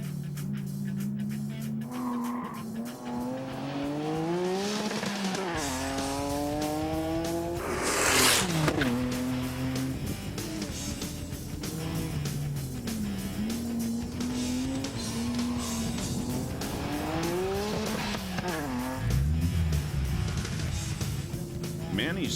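A Toyota Supra race car laps a track, its engine revving up and dropping through repeated gear changes, with a brief burst of tire squeal midway, loud and close throughout.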